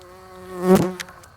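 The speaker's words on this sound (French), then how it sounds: "D'habitude il fait pas ça les bourdons" A bumblebee buzzes past a lamp beside ivy in a park, a single close, rising and falling drone that swells loudly for a moment and then fades, with no talking.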